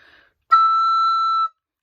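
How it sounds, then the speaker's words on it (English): A recorder squeaking from too much air: one shrill, piercing high tone held steadily for about a second, loud and alone after a brief faint sound. "if you use extra air, it's going to squeak up"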